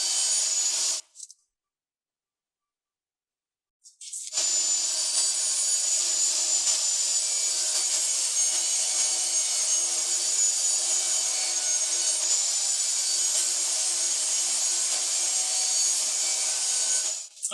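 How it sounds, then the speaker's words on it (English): Hand saw cutting a reclaimed wood board to length, a steady rasping stroke that runs nearly continuously and close by after a brief pause near the start, with no talking. "We'll make the length cut."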